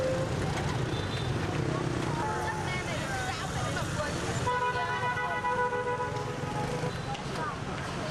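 Busy Hanoi street traffic, with many motorcycles weaving among pedestrians and a steady roar of engines. Car and scooter horns toot repeatedly throughout, and a voice talks over the din.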